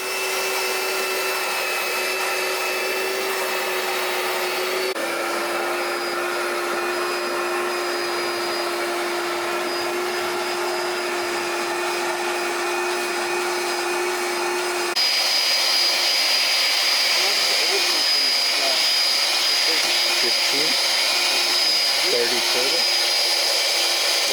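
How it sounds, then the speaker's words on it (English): A vacuum cleaner runs continuously inside a Mazda FC RX-7's interior with a steady whine, its pitch shifting as the nozzle moves, then growing louder and harsher partway through. "First of all, let's vacuum this."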